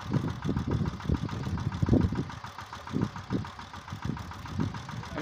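A tractor engine runs a belt-driven water pump, a close, loud throbbing chug with uneven rhythmic pulses and no speech.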